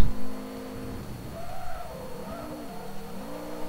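A Subaru WRX engine in the Forza Motorsport 3 racing game, revving and shifting through gears with rising and falling whines, steady and continuous at moderate loudness.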